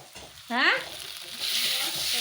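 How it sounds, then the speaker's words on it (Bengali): Red lentils fry in a pan with a steady sizzle and soft stirring scrapes; a bird chirps briefly near the start, and the frying hiss grows a bit louder toward the end. "এখানে করেছি মুসুর ডাল ভাজা"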